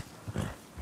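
A sheep in Red Dead Redemption 2 gives a short, low bleat, close and moderately loud, rising briefly at the middle of a quiet moment with a faint second murmur at the end.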